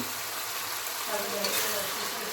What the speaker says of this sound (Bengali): এবার আদার পেস্ট দিয়ে দিব।